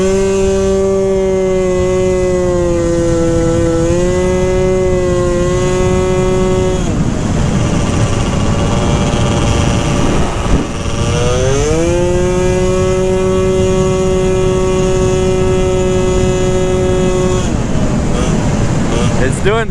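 A 120cc stroker Honda Elite scooter engine screams at wide open throttle, holding a high steady whine, dipping briefly and climbing again, loud and close throughout.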